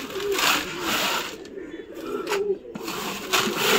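Pet pigeons coo in soft, rolling bursts close by, repeating several times with short pauses between them, and a few brief clattering sounds mix in.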